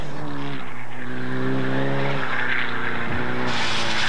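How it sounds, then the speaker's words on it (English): A Hyundai rally car on ice tires drives through snow at the 1997 SCCA Maine Winter Forest Rally, its engine loud and close, revving and shifting pitch as it passes. "the Hyundai is on ice tires, and you can see that he's going to try and keep it in the ruts"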